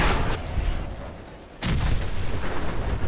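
Two loud gunshots in Fallout 4, the first at the very start and a second sharper blast about halfway through, each leaving a booming tail that rings out with no talk.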